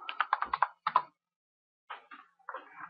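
Quiet bursts of computer keyboard typing, a quick run of about eight crisp keystrokes followed by a pause, then two more short clusters of taps, close and isolated with no talk.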